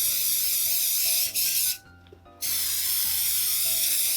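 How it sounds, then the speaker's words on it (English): Saphir Super Invulner waterproofing spray hisses steadily onto suede boots as a loud, continuous aerosol spray that breaks off for about half a second mid-way and then resumes, close up with no talking. "So let's get these boots sprayed off."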